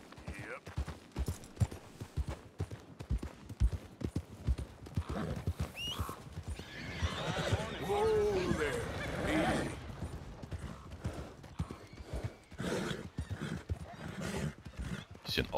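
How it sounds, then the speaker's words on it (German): A horse in Red Dead Redemption 2 clip-clops along with rhythmic hooves, then gives an agitated, drawn-out whinny mid-way before the hoofbeats resume, with faint game mechanisms in the background. "Aufgeregt das Pferd, aber was soll's?"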